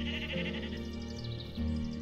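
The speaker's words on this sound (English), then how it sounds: "Sheep!" A sheep in the game Phoenotopia Awakening gives a couple of soft, wavering bleats over a steady background music bed.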